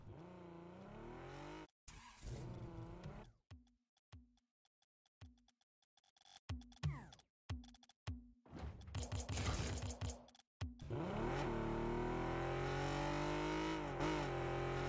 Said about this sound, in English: Listen to the engine as well.